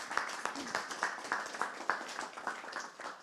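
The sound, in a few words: audience applause for speaker Jess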